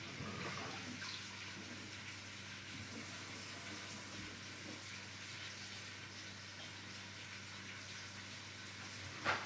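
Steady rushing of water from a running faucet, with soft splashing of hands being washed under it, ending in a brief bump.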